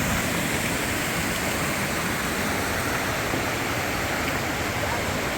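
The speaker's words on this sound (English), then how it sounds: "This reminds us of a little miniature horseshoe falls." Steady, full-bodied roar of a river pouring over a small horseshoe-shaped waterfall along a mountain trail, a constant broadband rush heard close and unbroken with no voices.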